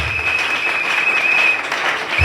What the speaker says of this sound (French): Il faut donner une grande acclamation pour ce ministère